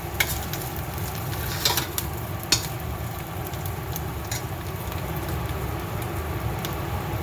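Pepper chicken with ginger garlic paste frying in a pot over a low flame, giving a steady close sizzle with occasional soft pops and stirring scrapes throughout.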